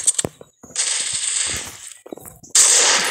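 Sniper rifle fire in the mobile shooter Critical Ops: sharp, close reports and a few quick clicks, then longer hissing, ringing bursts of game effects, loud and punchy with brief silent gaps.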